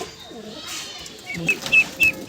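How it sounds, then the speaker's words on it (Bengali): Pigeons of a desi bloodline in a loft make soft cooing calls and brief wing flutters at close range, with a few sharp chirps near the end. "এগুলো সব দেশি ব্লাড লাইনের পায়রা"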